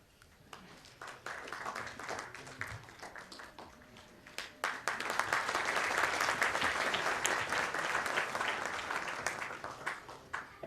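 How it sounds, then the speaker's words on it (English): A crowd applauds, starting with scattered claps that swell into sustained, full applause before easing slightly, heard from within the room. "I think we must give another huge round of applause to Professor Yadav"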